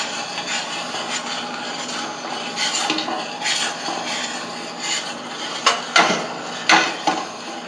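Pouring pectin and sugar into a boiling pot of preserves during home canning gives a run of clinks, scrapes and stirring knocks against the pot, with a couple of sharper metallic taps near the end and no talk.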